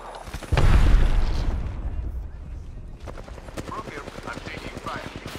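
Video game shooter gunfire, a loud burst of shots followed by rapid clicking and rattling bursts, with a player talking over it.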